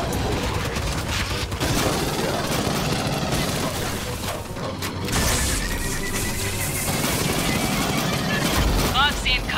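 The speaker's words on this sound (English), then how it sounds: "Gunfire must have drawn them." Rapid gunfire and booms from squad combat against alien bugs in the game Aliens: Fireteam Elite rattle continuously at close range, dense and layered, with players talking over the shooting.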